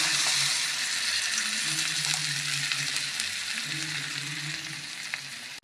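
Tuna masala with garam masala frying in a pan, a soft, continuous sizzle with faint bubbling as coconut milk goes in, gentle and close with no talking.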